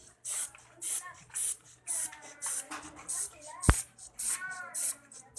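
Short repeated hissing bursts come from an aerosol Baygon insecticide spray can being used to spray paint, roughly a dozen evenly spaced puffs close by, with one sharp click partway through and faint talk in the gaps.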